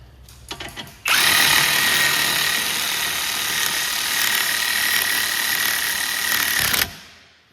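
Power tool running down the caliper bracket bolts on a Cadillac SRX front brake, a few short bursts, then one long steady high whine for about six seconds before cutting off, close and loud.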